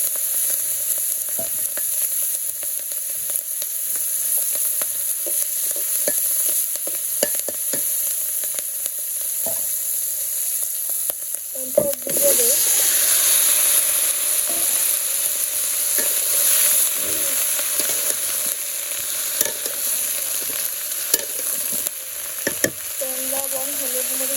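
Fish curry fries with cumin and spices in a pan in a village kitchen, a steady, close sizzle broken by occasional clinks and scrapes of stirring.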